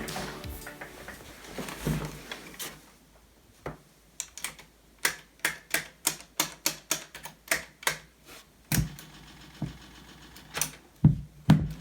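Buttons on a Philips CD555 CD player being pressed one after another, a close, crisp run of a dozen or more plastic clicks in an uneven rhythm, some quick and some spaced apart.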